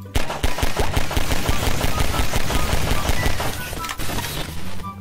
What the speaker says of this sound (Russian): Это пердежная бомба.